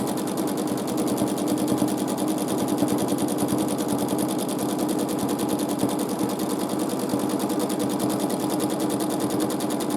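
A sewing machine free-motion quilts a large quilt with a loud, fast, continuous needle chatter and motor whir. It runs steadily close up for the whole stretch with no voices.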